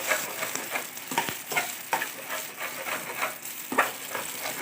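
Carrot halwa stirs and fries in a pan, with a steady soft sizzle broken by repeated scraping strokes as the grated carrot is pressed and broken up, fairly close and alone.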